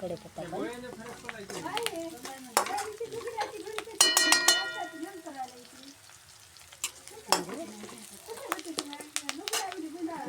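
Onion and garlic frying in a pan as filling for samosas, a soft sizzle with stirring and occasional clinks of a utensil against the pan, heard under someone speaking throughout.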